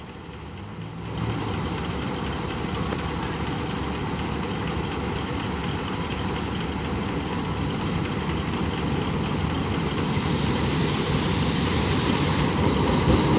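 A train hauled by an Alsthom diesel locomotive at Salaya station, Thailand: a steady, loud diesel engine rumble that holds throughout and builds slightly toward the end, with no talking.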